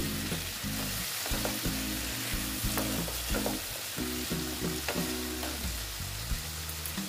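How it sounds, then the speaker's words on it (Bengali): Vegetables sauté with poppy seed paste in a pan, giving a continuous close sizzle with repeated stirring scrapes and taps throughout, over a steady low hum. "দিয়ে একটু আবার একটু পোস্তর সঙ্গে কষিয়ে নিচ্ছি।"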